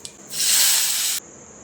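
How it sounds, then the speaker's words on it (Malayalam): Spice mixture with Kashmiri chilli powder is poured into a coconut-milk chicken curry, giving a single loud sizzling hiss that lasts about a second and cuts off sharply. "ഇനി ഇത് കറിയിലേക്ക് ഒഴിച്ചു കൊടുക്കാം"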